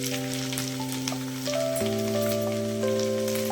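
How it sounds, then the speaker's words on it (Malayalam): Curry leaves dropped into hot oil for a potato fry crackle in a steady, close sizzle that lasts throughout, with soft background music playing. "ഇനി നമുക്കിതിലേക്ക് കറിവേപ്പില ഇടാം."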